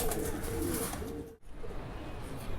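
Jumbo-sized Rampuri pigeons coo softly in a steady, low murmuring drone close by, with a faint background hiss and a brief dip in the middle.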